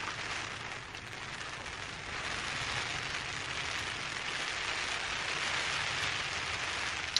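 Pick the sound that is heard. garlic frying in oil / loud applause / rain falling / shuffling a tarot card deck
rain falling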